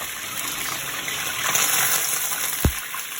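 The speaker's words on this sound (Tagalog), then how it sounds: "Talsika ng mantika." Hot cooking oil splattering and sizzling as tilapia fries in a pan, a steady hissing crackle throughout with one sharp louder pop near the end, no talking.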